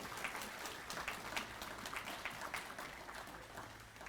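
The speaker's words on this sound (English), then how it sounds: "Let's show a round of applause for the courage." A gala audience claps in scattered, uneven bursts. The applause sounds faint and distant across a large room.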